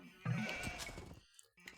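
A sheep in the strategy game Age of Empires II gives a single short, wavering bleat, fairly close and clear, followed by a brief quiet gap and a small click.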